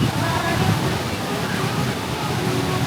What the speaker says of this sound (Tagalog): Yan, taas ng alon.